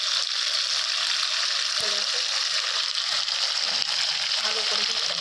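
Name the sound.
potatoes being sautéed and stirred in a pan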